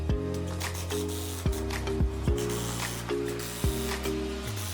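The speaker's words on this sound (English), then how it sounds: "attaching the wall with 3-inch drywall screws into the studs" A drill drives 3-inch drywall screws through a French cleat wall into shop studs, its motor whining in several short bursts with pitch dropping each time a screw seats.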